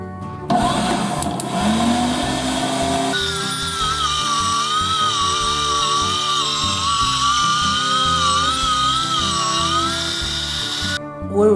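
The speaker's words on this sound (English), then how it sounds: "Now we grind the beef on size 4 plate." An electric meat grinder forces beef through a size 4 plate, a steady whirring motor drone with a high whine that runs continuously and close before cutting off.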